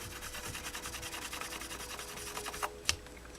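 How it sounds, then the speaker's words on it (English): Steady hand sanding of a plastic Bimota motorcycle fairing, a rhythmic scratchy rubbing that continues throughout, close by, ending with a couple of sharper scrapes. "After a lot of hand sanding, we've gotten that."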